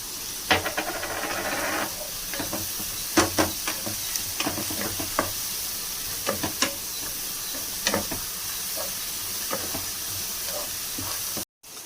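Ginger paste and masala frying in a pan for chicken pulao, a steady hiss of sizzling broken by repeated sharp scrapes and clicks of stirring, close and fairly loud throughout.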